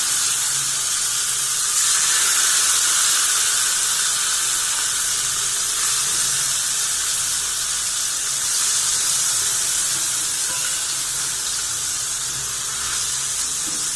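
Masala frying in hot oil gives a loud, continuous hissing sizzle up close, steady for the whole stretch with no voices.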